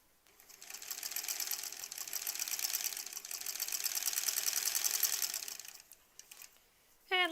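A sewing machine stitches a quilt block in a steady, moderately loud run lasting several seconds, then stops, with a short clatter at the very end.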